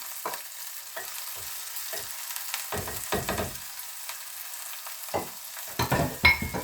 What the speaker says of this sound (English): Adding the corn into the side.